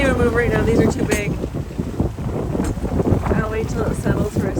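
A small boat crossing open sea in large swells and strong wind after its engine has cut out: heavy wind buffets the microphone over sloshing, rushing water, with a brief murmured voice near the start.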